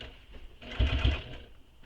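A sewing machine stitches a fabric backpack in a short run, its motor whirring up and then easing off, close and moderately loud.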